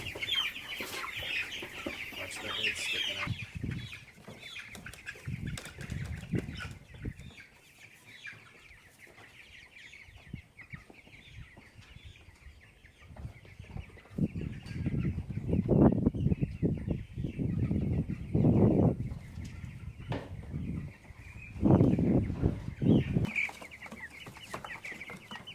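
Two hundred meat chicks cluck and peep on a farm as they are moved out to pasture in poultry crates, a continuous, fairly close chorus of chirping over shuffling and bumping noises that rise and fall.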